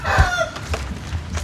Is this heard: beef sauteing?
no